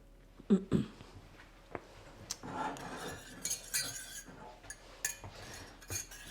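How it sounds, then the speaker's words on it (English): Soup mix being whisked into a butter sauce in a pan, soft metal clinks and light scraping strokes at a quiet level, scattered taps between brief swishes. "Whisk in your Keto Chow."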